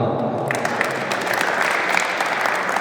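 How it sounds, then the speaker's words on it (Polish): Steady applause from a crowd at a three-on-three basketball tournament in Pińczów, dense clapping that fills the space continuously and loudly throughout. "Wielkie, wielkie brawa."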